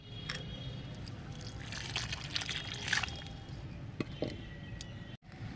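Water poured onto the soil around a potted nag champa plant, a soft close trickle and gurgle that swells briefly in the middle, then cuts off near the end.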